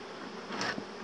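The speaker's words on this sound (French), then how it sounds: "je suis impressionné par la quantité d'abeilles qu'il y a" A dense mass of honeybees buzzing steadily while being moved from a board into a hive, a continuous close drone that swells briefly louder midway.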